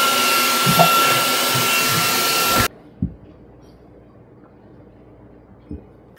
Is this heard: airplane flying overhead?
no